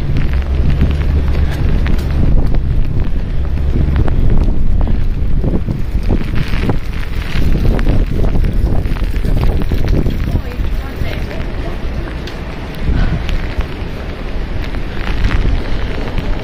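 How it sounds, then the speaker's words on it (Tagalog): Strong wind during a snowstorm roars steadily against the microphone, a dense low rumble with gusty surges that never let up. "Lakas ng hangin."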